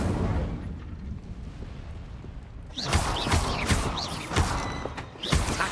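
Incendio fire spell cast in Hogwarts Legacy, a sudden whooshing burst of flame after a quieter stretch, followed by crackling, flaring bursts that rise and fall to the end.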